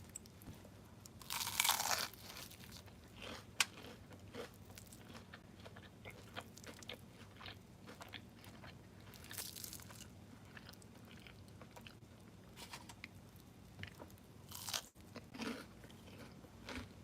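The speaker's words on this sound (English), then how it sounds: "Do you hear that crunch?" Crisp crunching and chewing of a fried snack dipped in tamarind sauce, heard in a few loud bites near the start and scattered quieter crunches afterward, close to the mouth with no speech.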